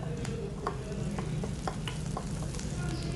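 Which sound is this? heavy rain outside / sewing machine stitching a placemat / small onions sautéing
small onions sautéing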